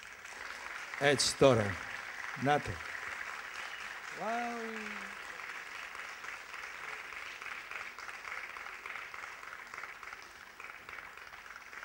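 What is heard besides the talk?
audience applause for a choir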